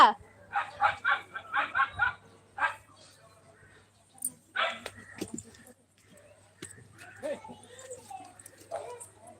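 Several dogs bark in a quick burst of sharp, repeated barks, fairly close, then fall quiet while people talk casually at home over faint background noise.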